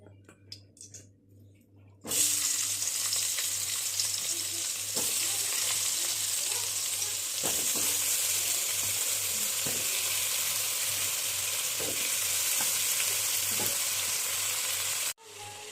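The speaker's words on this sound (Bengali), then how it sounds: "এই তেলটাতেই আমি বেগুন ভেজে নেব" Brinjal pieces drop into hot oil in a wok and burst into a loud, continuous sizzle that holds steady, with occasional stirring clicks.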